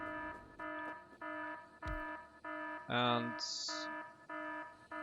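Repeated electronic alert beeps in the video game Factorio, a steady series of evenly spaced tones about every half second, with a brief burst of a different chime in the middle and a voice speaking briefly.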